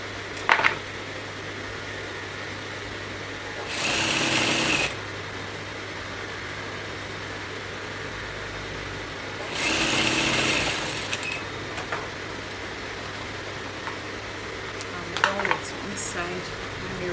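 A sewing machine runs two separate stitching bursts of about a second each along a kimono seam, with a faint third burst near the end, over a steady low room hum and no talk.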